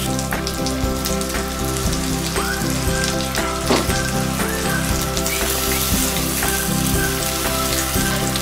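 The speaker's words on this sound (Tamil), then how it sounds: "ஸோ நம்ம மேரினேட் பண்ண சிக்கனை நம்ம எடுத்து போட்டுக்கலாம்." Marinated chicken tangdi kabab sizzles steadily in a generous amount of butter in a pan, a dense continuous frying crackle with no voices.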